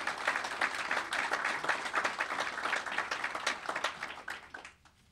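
A press conference audience claps in steady, dense applause for leaders, fairly distant and even, thinning out and fading to quiet over the last second.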